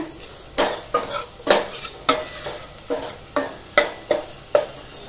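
Turmeric sautéed with softened onion in hot oil, a spatula scraping the pan in about nine regular strokes over a low sizzle, close and fairly loud, with no voices.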